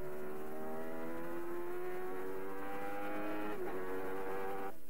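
1991 Formula 1 cars race around the circuit, a high, steady engine howl that climbs in pitch as the car accelerates, with a sharp gear-change dip near the end, heard alone and at a distance.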